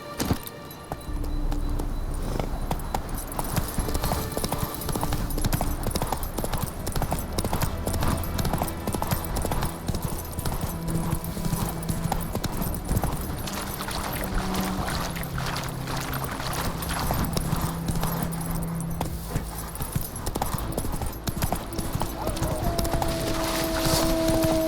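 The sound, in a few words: horse Roach galloping in video game The Witcher 3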